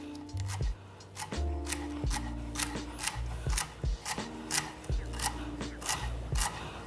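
A knife chops celery on a cutting board for a Cajun pasta salad, about a dozen sharp, evenly spaced thuds and crunches in a steady rhythm, close and clear with no talking.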